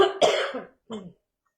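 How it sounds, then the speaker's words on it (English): Two short coughs close to the microphone, the first harsher and longer, then a brief second one before silence. "I had to cough."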